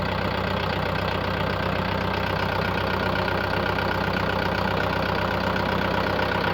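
A Yto 604 4x4 tractor's engine labours steadily as it climbs a slope, a continuous close, loud diesel drone with a knocking low rumble and no break across the stretch.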